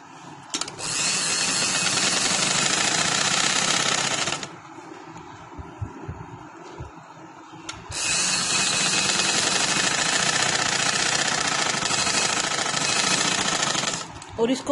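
A sewing machine stitches a cotton girl's frock in two loud, steady whirring runs. A quieter pause with faint handling sounds separates them.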